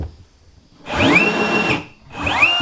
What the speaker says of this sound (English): Drilled the first hole already.